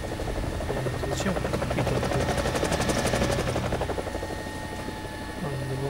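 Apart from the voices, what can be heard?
helicopter taking off in the video game War Thunder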